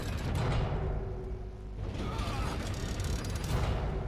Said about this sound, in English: That was the sound of that crusher priming